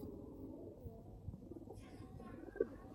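A large spotted pigeon coos softly and low, close by in a quiet room, while people talk faintly nearby.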